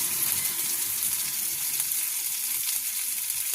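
Bitter gourd frying in oil until lightly browned, a loud, dense, continuous sizzle held close and steady throughout.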